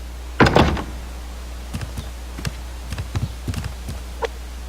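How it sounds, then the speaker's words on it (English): Door closing in the survival video game Subsistence: one sharp thunk near the start, followed by a scatter of lighter knocks and clatters, all close and dry over a low steady hum. "And shut the door behind us."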